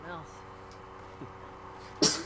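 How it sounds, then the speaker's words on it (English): A single sharp sneeze bursts out near the end, loud and close, after a stretch of quiet room noise with faint voices. "I'm sneezing."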